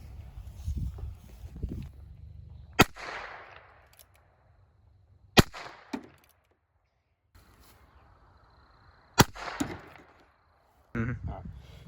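.22 LR rifle shots fired into a target, four sharp isolated cracks spaced a few seconds apart, with people talking in between and around them.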